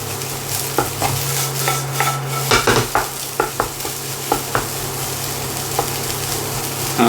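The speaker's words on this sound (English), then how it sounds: "So just give it a bit of stir around the wok." Rice stirred around a hot wok for a grandmother's fried rice recipe, with a soft sizzle under irregular scraping and clanking strikes of the utensil against the metal pan, close up over a steady hum.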